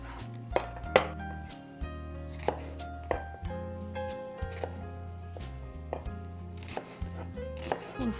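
A knife chops a medium-sized red onion and garlic cloves on a cutting board, sharp irregular taps close by, with faint clinks of kitchenware in between.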